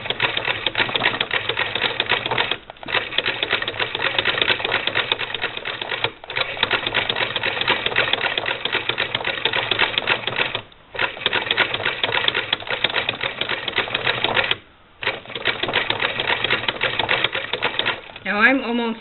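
Vintage Singer Model 20 SewHandy toy sewing machine stitching binding onto a quilt, a steady rapid mechanical clatter running close and loud with a few brief pauses.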